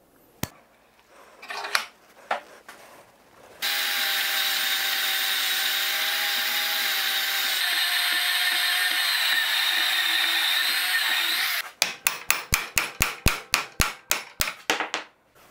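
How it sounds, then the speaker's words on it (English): A bandsaw cutting steel rebar runs with a steady, loud whine for several seconds, cutting crooked, bracketed by sharp metallic knocks and a rapid series of clanks at the end. "Not exactly sure why my bandsaw starting to cut crooked as hell."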